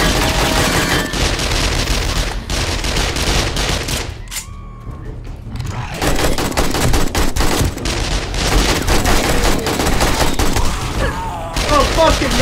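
Rapid gunfire in the 7 Days To Die video game, fired at bears: dense, loud volleys of automatic shots, broken by a brief lull, then more bursts continuing to the end.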